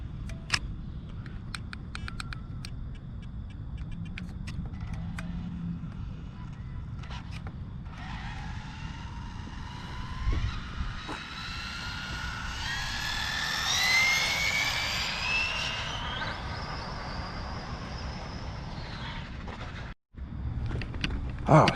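An Arrma Limitless RC car makes a speed run pass, its motor whine rising to a high, sweeping scream that swells and fades over several seconds against outdoor background noise.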